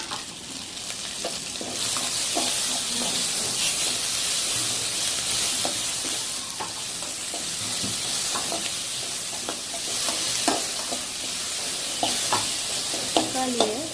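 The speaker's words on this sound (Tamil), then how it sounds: "இப்போ நாம் இதில் வெட்டி வச்சுருக்க தக்காளியை சேர்த்துக்கலாம்" Chopped tomatoes hit softened onions in a hot pan for masala idli, a steady broad sizzle running throughout with scattered spatula scrapes and stirring clicks, louder toward the end, no voices.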